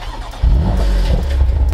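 A BMW M2 Competition engine bursts into a loud, deep rev after a quiet moment and holds a throaty, steady roar close by.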